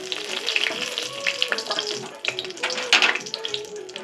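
Whole spices such as bay leaves and dried chillies sizzle and crackle in hot ghee in a wok, a dense, bright frying hiss with small pops throughout.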